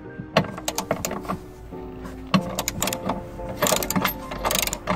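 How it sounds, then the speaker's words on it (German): A torque wrench ratchets while bolts are tightened on a car tow hitch being fitted, giving repeated close clicking strokes in uneven bursts, with brief pauses and metallic handling noise throughout. "An der Stelle wieder Drehmomentschlüssel benutzen."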